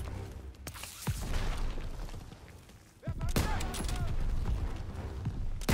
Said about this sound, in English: He's literally shooting through the wall in an effort to get me.